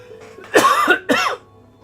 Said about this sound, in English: We're all coughing like crazy over here.